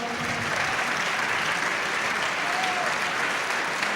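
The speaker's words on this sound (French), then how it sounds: "On vous demande de l'applaudir encore très très fort." Sustained applause from an audience at the Midi Libre Sportif de l'année 2014 sports award ceremony, a dense, steady wash of clapping at even loudness throughout with no voices over it.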